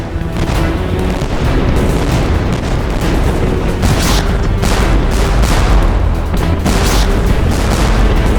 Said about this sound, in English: Gradually, gunfire from the combined fleet builds to a steady thunder.